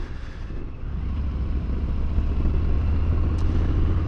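A Harley-Davidson Fat Bob motorcycle with an upswept exhaust rumbles steadily while riding, a deep, continuous engine drone that swells slightly as it goes.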